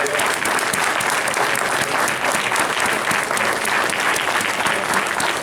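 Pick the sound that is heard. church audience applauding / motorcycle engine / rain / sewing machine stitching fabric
church audience applauding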